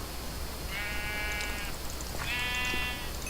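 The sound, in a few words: sheep bleating after being slapped, from video game Sky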